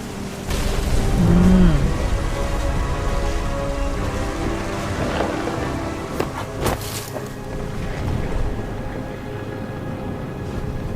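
A storm in the video game What Remains of Edith Finch brings steady heavy rain with low rumbling thunder and a few sharper cracks, loud and continuous throughout.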